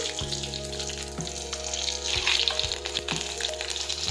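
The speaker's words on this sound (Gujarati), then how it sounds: "હવે આપણું તેલ છે તે ગરમ થઈ ગયું છે. હવે આપણે રાઈ અને જીરું નાખીશું." Mustard seeds and cumin crackle and sizzle in hot oil in a home kitchen pan, a steady close hiss with faint popping throughout, no talking.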